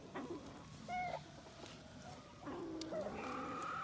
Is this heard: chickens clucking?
yes